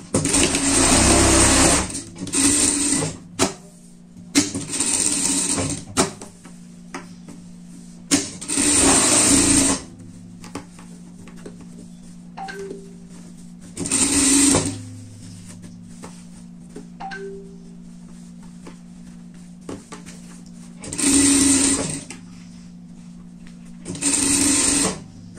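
A sewing machine stitches a pet bed cover in about seven loud, close bursts of rapid mechanical chatter, each lasting a second or two and separated by quieter pauses with faint handling noises.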